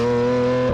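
A white 2014 Lamborghini Aventador LP 700-4 with a V12 of almost 700 horsepower idles loud and close, a steady deep exhaust drone with strong harmonics that drops away at the very end.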